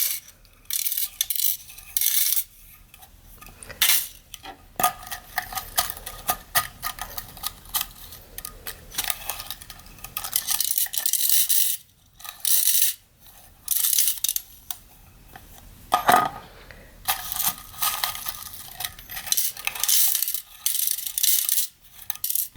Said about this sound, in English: we are gonna pick them up with the magnet and put them in the box